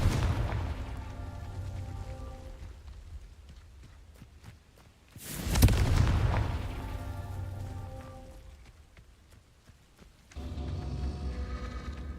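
Spell blasts from the Hogwarts Legacy video game, Confringo and Repulsor, heard as a few distinct booming whooshes with low rumbling tails, rising and fading over a soft game ambience, with no talking.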